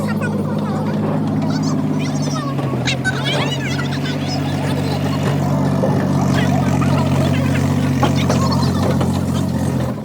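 A steady, low tractor engine drone runs throughout, loud and close, with a voice talking over it.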